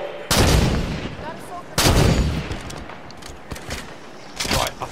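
Gunfire in the video game Halo 5: Guardians rings out as a few sharp, loud shots spaced apart, each trailing into echoing battle noise.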